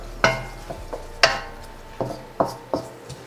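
Pork belly liempo in soy sauce and oyster sauce stirred in a pan, with a series of sharp utensil knocks and scrapes against the pan at an uneven pace over a faint sizzle, close by and without talk.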